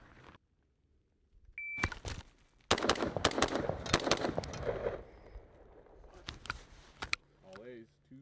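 Sharp rifle reports from a custom LMT Defender 2000 fired at several targets, two rounds each, in close loud bursts with ringing echoes and short pauses between them, plus a brief beep at the start.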